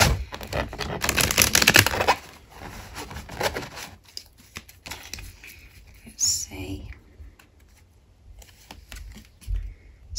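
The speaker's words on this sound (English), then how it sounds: "These are playing me up at the moment, guys, when I'm cutting the cards for some reason." Tarot cards being cut and shuffled by hand give a dense papery riffle for about two seconds, then quieter scattered shuffling and tapping, under a soft, whispery voice.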